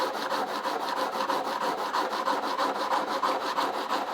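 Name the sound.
sharpening a metal blade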